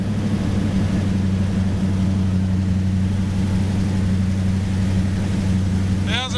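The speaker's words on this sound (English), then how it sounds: "Thousand horsepower Supra" A 1000-horsepower Toyota Supra with a rear-mounted turbo V8 idling nearby makes a loud, constant, deep rumbling drone. The note stays even throughout, and a brief rising whistle sounds at the very end.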